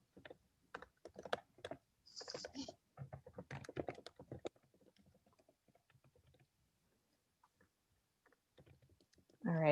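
Keyboard typing clicks in a public open house meeting, a rapid burst of keys with a few faint voices mixed in, then long quiet stretches with sparse taps.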